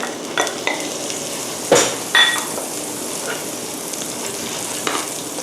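Unsalted butter sizzles softly in a hot pan, a steady low crackle with a few sharper clinks of a utensil against the pan.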